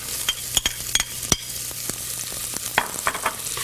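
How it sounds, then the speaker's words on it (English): Onions and celery sauteing in bacon drippings, a steady close sizzle broken by scraping stirs and light spatters of the pan. "So we're going to put those onions in. All right. We're going to saute those with the celery."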